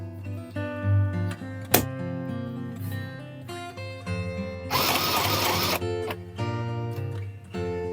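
A small Aldi mini sewing machine runs in steady bursts, its motor whirring and needle clattering with a mechanical hum, interrupted midway by a brief broad rush of noise before the stitching resumes.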